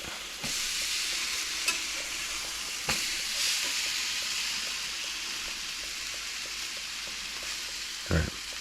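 French toast frying in a pan on a lowered heat gives a continuous close sizzle and hiss, broken by a few sharp clicks and knocks of utensils against the pan.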